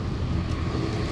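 An off-road vehicle's engine revs on a rutted dirt track, a steady low rumble of engine noise heard alone at close range.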